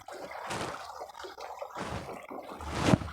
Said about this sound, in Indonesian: Ini suasana air mengalir untuk relaksasi asik.